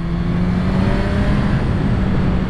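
A 2022 Suzuki Katana motorcycle engine pulling hard in second gear, a steady loud droning roar with a strong low hum, heard close up with wind noise and no talking.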